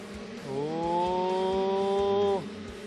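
Motocross bikes in a mini senior race at Loretta Lynn's roar off the line as the gate drops, a loud engine drone that swells, holds steady for about two seconds, then cuts away.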